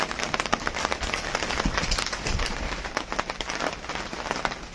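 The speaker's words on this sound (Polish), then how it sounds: "No a teraz zaczęło padać." Heavy rain beginning to pelt a greenhouse during a storm, dense irregular patter of drops striking the roof and panes, loud and close with sharp individual impacts over a continuous wash.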